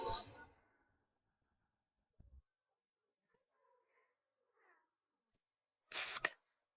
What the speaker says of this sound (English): It's just a stray cat.